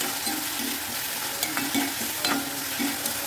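Salted onion masala for a leaf-roasted sardine curry sautés in a pan with a dense, bright sizzle and soft rhythmic stirring scrapes, close up and unbroken by speech.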